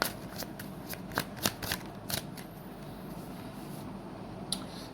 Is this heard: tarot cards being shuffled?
yes